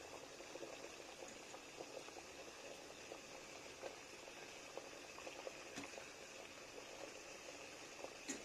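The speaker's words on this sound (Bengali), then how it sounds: "এগুলো এখন স্টিমে বসিয়ে দেব।" Puli pitha dumplings set to steam over boiling water give a low, steady bubbling hiss with faint pops throughout, fairly quiet and even.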